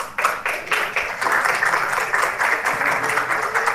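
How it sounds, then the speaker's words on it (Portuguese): Audience applause honoring a professor after her talk at an academic event, steady dense clapping throughout at moderate volume, with no voices standing out. "Merecidas palmas à professora Marilina."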